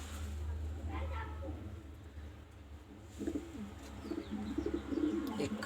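Pakistani Kalsira pigeons coo softly in their loft, low repeated calls over a steady background hum, with someone talking nearby.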